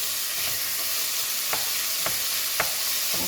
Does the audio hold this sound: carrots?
yes